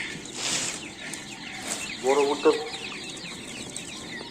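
Chicks, grown a little bigger, cluck softly in short bursts amid steady outdoor background noise, with a person speaking briefly nearby.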